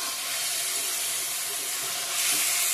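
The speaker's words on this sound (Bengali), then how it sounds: "ভালো করে ভেজে নেব চিকেনটাকে মশলার সঙ্গে। সুন্দর করে ভাজা হচ্ছে" Chicken pieces fry in hot oil with spices for doi chicken, giving a steady, loud sizzling hiss that stays even throughout and swells slightly toward the end, with no talking.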